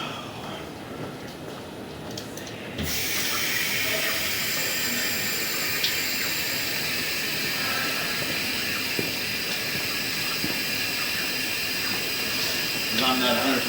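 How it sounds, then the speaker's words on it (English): Water starts gushing from a faucet into a utility tub, then runs steadily with a hissing, splashing rush, close by, with small clinks now and then. "I'm going to try to run some water in the stationary tub"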